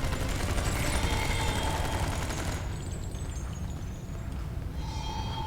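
Weapon fire in a Star Trek Online space battle: rapid, continuous bursts of energy-weapon shots, dense and loud, easing briefly near the middle before resuming, with no talking over it.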